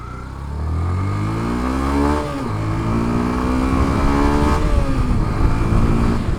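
A Yamaha FZ-S V2 motorcycle revs and accelerates steadily while being ridden, its engine note climbing through gear changes with a brief dip, loud and close, with wind rush throughout.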